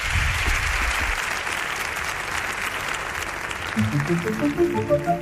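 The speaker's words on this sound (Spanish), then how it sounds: "Os pido un aplauso" A crowd claps at the end of a talk on strange religions and spirits, a steady, fairly loud wash of applause. It gives way in the last seconds to a voice and tonal music.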